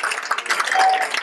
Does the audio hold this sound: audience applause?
yes